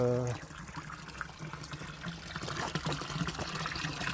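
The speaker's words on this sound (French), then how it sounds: "J'ai trouvé un endroit où il y a une petite chute d'eau" Small waterfall along the Camino Francés: a faint, steady trickle and splash of flowing water, with a brief murmur of voice near the start.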